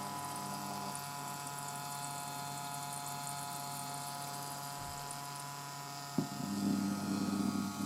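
A small electric pump hums steadily while transferring sauerkraut brine, a constant droning motor tone with a faint liquid wash, shifting to a rougher, louder gurgling flow in the final seconds.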